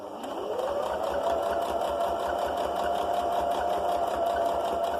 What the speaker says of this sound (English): So I'm just going to sew over those pins.